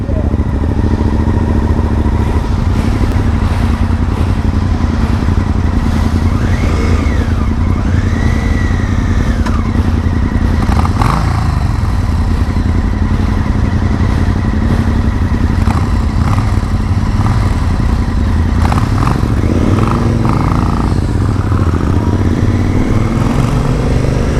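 A 2017 Honda Africa Twin motorcycle engine droning steadily while riding, with rising and falling revs and wind rush, a person talking over it.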